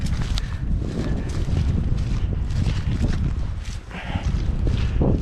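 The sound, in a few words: wind blowing on the microphone outdoors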